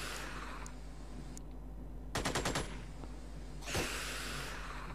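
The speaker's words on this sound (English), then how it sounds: "I can fire two times at that guy." Gunfire in the video game Xenonauts: a short, rapid burst of several sharp shots in the middle, with a fainter single report later, over a steady low background hum.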